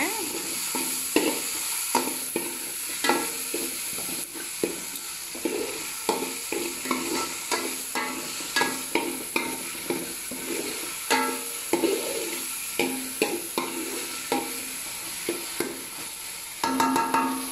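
Dried fish fries in oil while a spoon stirs it in steady, rhythmic strokes, each one a distinct scrape over a constant sizzle, close and clear without speech.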